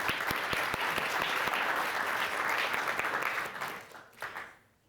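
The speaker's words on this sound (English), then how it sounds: "Please give her a round of applause." Audience applause with a few distinct claps at the start, holding steady before tapering off and fading out.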